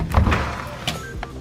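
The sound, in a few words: door being forced open in an abandoned nursing home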